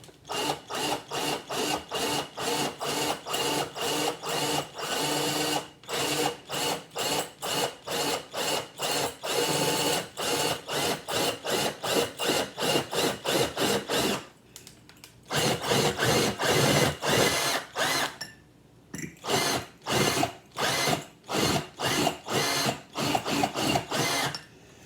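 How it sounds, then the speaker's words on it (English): A power drill with a ceramic drill bit grinds into a metal pot in rapid, repeated pulses, loud and close, with a brief pause partway through before it resumes. "I'm just using the same ceramic drill bit."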